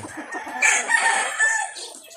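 Hens cluck and squawk close by on a farm in a continuous, busy chatter that rises and falls over a couple of seconds.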